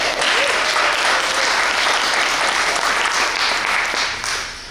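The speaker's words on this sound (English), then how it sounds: "Please give a round of applause to her" A crowd applauds steadily, a dense wash of clapping that holds throughout and fades slightly at the end.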